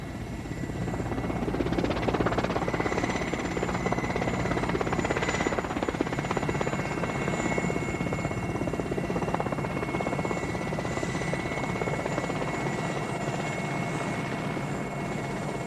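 An aircraft drones steadily while flying north from Addis Ababa over the Ethiopian highlands, a constant engine hum with a high whine heard from inside the cabin, unbroken and free of talk.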